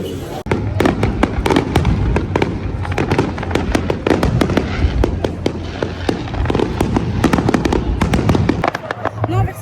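A fireworks display at Deauville, heard as many sharp cracking bursts and pops in rapid, irregular succession, loud and close, over a steady background hum with people talking faintly in the crowd.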